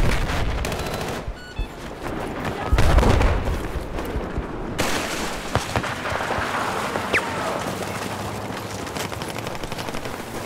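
Machine gun fire in Battlefield 4 on a naval map: rapid bursts of gunfire crackle amid scattered distant shots, with a heavier boom partway through and battle noise continuing throughout, no one speaking.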